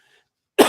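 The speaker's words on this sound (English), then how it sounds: "make me cough in the morning here." A single sharp allergy cough bursts out after a moment of near silence, close and loud.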